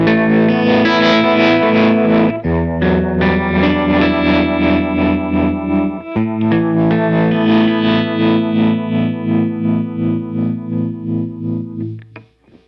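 An electric guitar played through a Line 6 Pod Go multi-effects unit on a snapshot with slower modulation gives sustained distorted chords that swirl with a chorus-like wobble. It rings loud and full, then fades out at the end.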